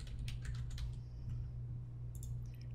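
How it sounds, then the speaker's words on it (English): Quiet, rapid clicking of keys on a computer keyboard, a steady patter of taps at close range over a low background hum. "you can type in whatever text you need"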